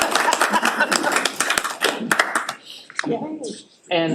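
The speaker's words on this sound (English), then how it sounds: "So big wahoo cheer." A small audience at a utility board meeting claps and cheers briefly, a few dozen hands fading out in about three seconds, followed by short bursts of nearby talk.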